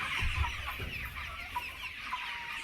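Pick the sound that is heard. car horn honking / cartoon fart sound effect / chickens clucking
chickens clucking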